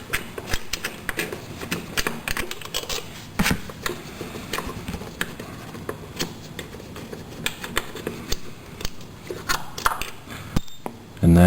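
A hand tool backs out the brake caliper bolts on a sportbike, making a close, busy stream of quick metallic clicks and ticks that carries on throughout.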